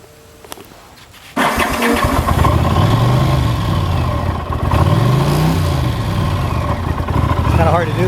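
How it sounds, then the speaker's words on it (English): A 1983 Honda CX650 Turbo motorcycle cranks briefly and fires up, then settles into a loud, steady idle with slight rises in engine speed, heard close up. "hit the key, wait for it to prime"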